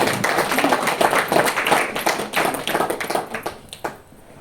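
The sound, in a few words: audience clapping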